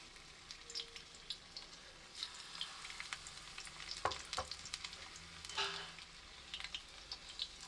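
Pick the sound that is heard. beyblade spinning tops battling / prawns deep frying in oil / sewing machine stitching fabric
prawns deep frying in oil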